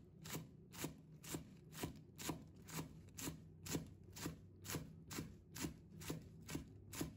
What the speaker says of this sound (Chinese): 再把葱叶切成葱花